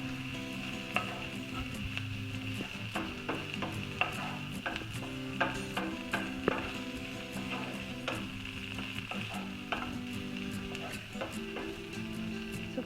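Carrot fry with coriander leaves stirred in a frying pan on the stove, steady sizzling under repeated scraping and clinking strokes of a spoon against the pan, close and continuous.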